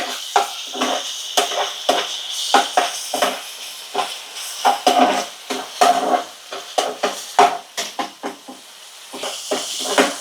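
Mutton fries in a hot pan with soft sizzling and hissing, broken by repeated scraping and clinking strokes of a spoon stirring against the pan in an uneven rhythm.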